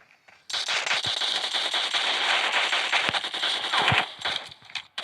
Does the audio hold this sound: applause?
no